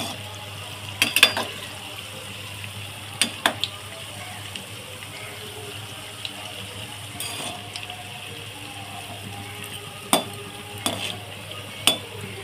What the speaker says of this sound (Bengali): আমার ফুলুলিগুলো ভাজা হয়ে গিয়েছে, আমি এবার তুলে নেব।